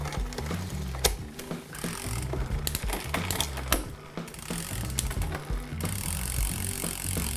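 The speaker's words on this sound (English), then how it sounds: "So I'm just going to change gear very quickly." Bicycle gears shifted rapidly through the derailleur, a close series of mechanical clicks and ratcheting ticks over a whirring freewheel and spinning drivetrain, uneven in rhythm.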